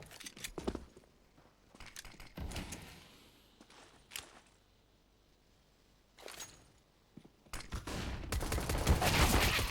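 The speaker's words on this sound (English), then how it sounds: "Oh, that is such a good flashbang." Counter-Strike gameplay on Dust 2 during a tournament match: bursts of gunfire and flashbang pops spaced through the clip, with a dense rattling volley at the end, fairly quiet and free of commentary.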